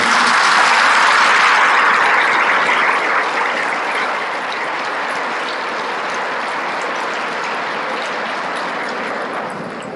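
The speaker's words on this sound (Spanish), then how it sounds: "Hacemos un aplauso a María" Sustained applause from an audience at a spiritual retreat in San Luis Potosí, loud at first and then easing slightly while a dense wash of clapping continues for the whole span.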